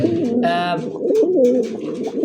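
Pigeons coo in low rolling throaty calls while being grabbed and handled, with a brief sharper flutter-like burst among them, close at hand.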